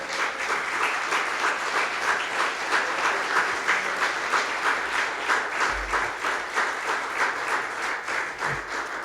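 A church congregation applauds the Lord, a steady, dense wash of many hands clapping throughout with a faintly rhythmic pulse, fairly close and full, with no talk over it.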